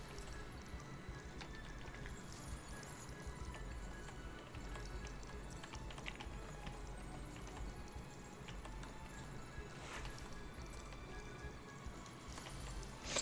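Hooves clip-clop steadily from a horse ridden in the online game Star Stable, a continuous rhythmic trotting under a busy game soundscape with an occasional whinny, moderately loud and no talking.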